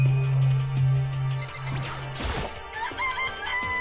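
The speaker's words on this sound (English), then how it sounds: "It's a chicken. It's really alive" A chicken in the Danganronpa video game gives a crowing, clucking call in short bursts, followed by a crash and some electronic chime-like game tones; no talking.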